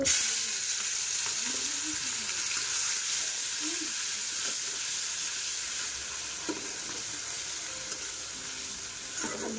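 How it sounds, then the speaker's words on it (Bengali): Chopped onion fries in very hot oil, giving a steady, loud, broadband sizzle that hisses throughout, with a few soft stirring or scraping touches and no talking. "তারপর তেলটা যখন পুরো গরম হয়ে আসবে তখন তেলের মধ্যে আমি পেঁয়াজ কুচিটা ছেড়ে দেবো।"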